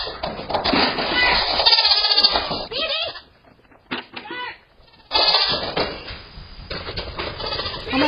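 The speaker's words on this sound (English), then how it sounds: "Those are adorable fucking goats, dude." Goats bleat loudly and repeatedly up close indoors, several overlapping calls with short pauses between bursts.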